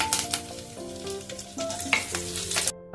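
Mustard seeds, cumin, crushed garlic, curry leaves and dry red chillies fry in hot oil for a toor dal tadka, giving a steady close sizzle with crackling pops and scraping stirs, no voices.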